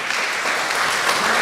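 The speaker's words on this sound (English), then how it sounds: "Round of applause for all of them." A brief burst of audience applause at a church youth gathering, dense, even clapping filling the room, loud and close, with no speech.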